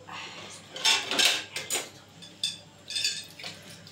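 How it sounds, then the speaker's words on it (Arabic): Dishes clinking and clattering together as they are handled, irregular bursts of ceramic and cutlery knocks, close by. "يلا اغسل المواعين"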